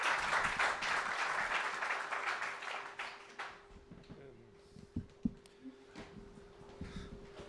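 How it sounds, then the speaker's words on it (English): Audience applause at a talk session, a full round of clapping that fades after a few seconds into scattered claps and light room noise, with a steady hum throughout. "Give it a round of applause."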